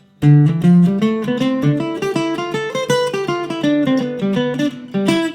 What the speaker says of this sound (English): dot their eighth notes, by which I mean make them long, short, long, short, long, short